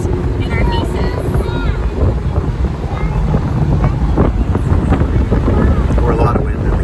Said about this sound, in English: It's nice to have a little bit of wind in our faces.